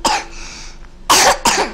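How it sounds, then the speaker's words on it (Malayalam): A young child coughs close by, one rough burst and then two quick coughs in a row near the end, with quiet between them. "കുട്ടി ചുമക്കുന്നുണ്ട്."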